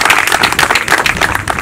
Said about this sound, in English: Can we please give a round of applause to Siyad Foundation?